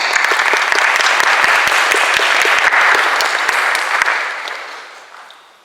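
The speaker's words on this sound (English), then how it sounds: "let's just give them a 2-second applause" An audience at an academic event held in a venue applauds its organising society, a dense burst of clapping with sharp individual claps that holds steady and then fades away toward the end.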